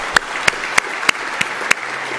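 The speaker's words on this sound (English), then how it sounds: "Let's give them a big round of applause" Audience applause for military veterans at a policy event on post-conflict stability, a steady wash of clapping with sharp, regular louder claps standing out about every third of a second.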